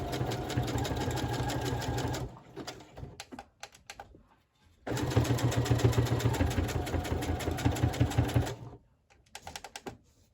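A sewing machine stitches a zigzag while collaging on paper, its loud, steady mechanical whirr running in two long bursts separated by a quieter pause with a few short stitching runs.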